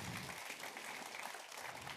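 A church congregation applauding God, steady dense clapping from many hands filling the whole moment, distant and faint, with no speech over it.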